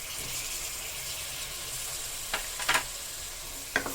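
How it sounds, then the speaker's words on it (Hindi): Cluster beans, French beans, cauliflower and potatoes drop into a steady low-flame sizzle of masala for Sindhi curry, a constant hiss broken by a few short, sharp crackles near the end, with no talking. "अभी हम यहाँ पर वेजिटेबल्स डालेंगे।"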